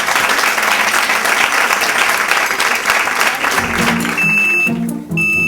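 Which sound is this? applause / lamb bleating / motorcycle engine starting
applause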